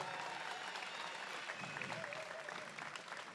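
Crowd applause for runners at the 2016 GIO Oz Day10K race, sustained clapping from many hands outdoors, steady and moderately distant throughout with faint cheering.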